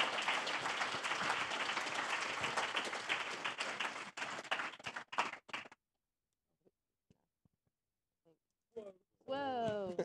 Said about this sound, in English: So if we give a huge round of applause to our panel who will join us now.